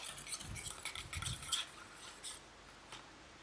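Eggs whisked quickly in a bowl for an omelette, a rapid patter of clinking and scraping strokes that is close and soft and fades out after about two seconds.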